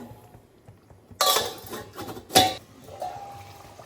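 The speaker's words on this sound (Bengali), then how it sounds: "এই দেখো ঢাকনাটা দেওয়া ছিল, এই ঢাকনাটা খুললাম" A metal lid lifted off a pan of cooking bhetki fish, a sharp clatter of metal followed by a second bright clank a moment later, close and fairly loud over a quiet kitchen background with no talk.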